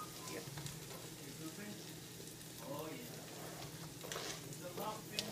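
Garlic and onion frying in a home kitchen pan, a soft continuous sizzle with crackles in the background while people talk over it.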